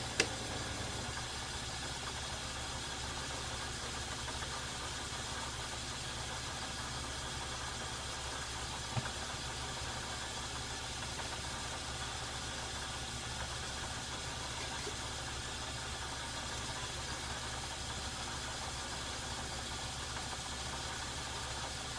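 Metal lathe running slowly at 65 RPM in a low gear, a steady, even mechanical hum and drone that holds unchanged throughout, with one small tick near the middle.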